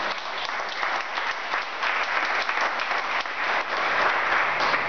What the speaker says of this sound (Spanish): ¿Por qué no le regalas un aplauso al Señor?